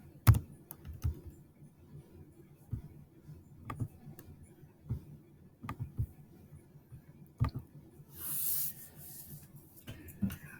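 Sparse keyboard typing at close range, a scattering of separate key clicks with irregular gaps and a brief hiss near the end, otherwise quiet.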